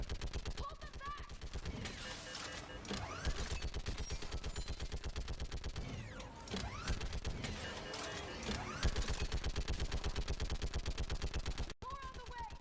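Dense, continuous gunfire from a Mass Effect 3 battle on Insanity difficulty, with rapid repeated shots and bursts layered over each other for the whole stretch, loud and sustained amid combat effects.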